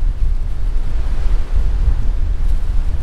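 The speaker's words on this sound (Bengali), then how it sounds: "সমুদ্রের শব্দ শুনছেন, গর্জন।" Roaring sea surf on the shore at Kuakata's Kauar Char in Bangladesh, a steady low rumble of breaking waves mixed with wind buffeting the microphone, loud and continuous with no talk.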